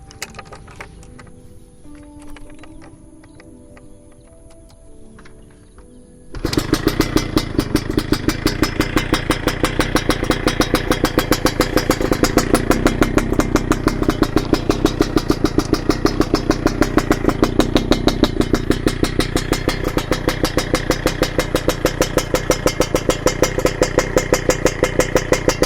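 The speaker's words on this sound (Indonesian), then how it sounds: "sekarang kita akan coba sedikit dengarkan bagaimana suara motor ini ketika idle ataupun sedikit digas" A 2021 Yamaha F1ZR two-stroke motorcycle with an aftermarket exhaust fires up after a quiet start, then settles into a loud, close, rapid crackling idle with light blips of throttle, running steadily to the end.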